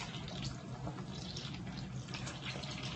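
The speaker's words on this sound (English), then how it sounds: "And that water is boiling over." A pot of water boils over on a stove, giving a steady bubbling, sputtering hiss with splashy crackles that carries on without pause and without speech.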